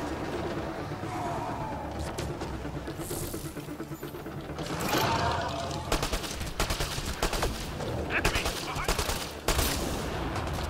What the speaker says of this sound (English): I don't know what you want to call it, a minigun, chain gun.